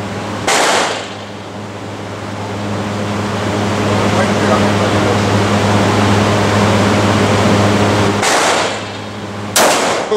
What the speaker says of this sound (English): Her first time in her life shooting a 10 millimeter gun.